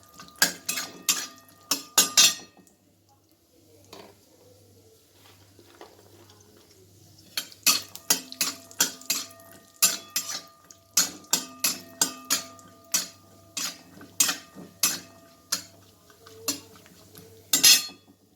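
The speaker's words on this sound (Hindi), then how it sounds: "में थोड़ा तेल डाल के सबसे पहले काजू को रोस्ट कर लेते हैं। हल्का काजू को भून लेते हैं।" Cashews are roasted in a pan with oil or ghee while a spoon stirs them, producing sharp clinks and scrapes of metal on the pan in irregular clusters. A quiet pause comes partway through, and no one talks.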